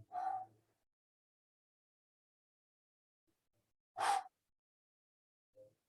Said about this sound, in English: Very deep cleansing breaths.